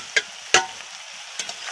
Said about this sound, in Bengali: তার সবজিগুলো ভালো করে ভাজা হচ্ছে, নেড়ে দিচ্ছি